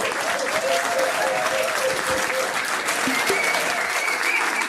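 A pub trivia quiz crowd gives a round of applause for the winning team, steady and loud clapping mixed with cheering and crowd chatter throughout.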